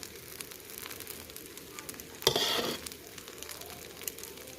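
Egg fried rice stir-fried in a wok, with a steady background sizzle and one sharp, louder burst of frying and scraping partway through before the hiss settles again.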